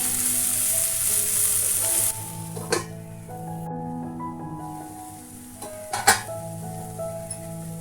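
Mushrooms cook with turmeric in a pan, giving a continuous loud hiss of sizzling, with a soft clatter now and then and a brief quieter stretch midway.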